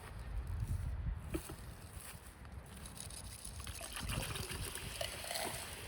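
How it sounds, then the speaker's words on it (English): Calcium carbide poured into water for a garbage can rocket experiment, giving a steady fizzing, bubbling trickle with a faint outdoor hiss that continues throughout. "So first we're going to go ahead and pour some into the water here."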